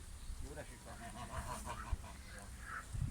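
Two geese honk in a vegetable garden with bamboo and grapevines, giving a few short nasal calls close by, faint overall, mixed with a person talking.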